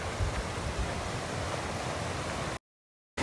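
Steady broadband rush of a stream running along the edge of a hillside plot of land in Khánh Vĩnh, Khánh Hòa, heard close and continuous for about two and a half seconds before cutting to silence.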